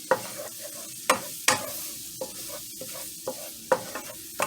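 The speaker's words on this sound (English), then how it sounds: "mix that around guys for 30 seconds or until you start to see the color change" A utensil stirs flour into butter for a roux, giving repeated sharp scrapes and taps against the pan at an uneven rhythm over a faint sizzle.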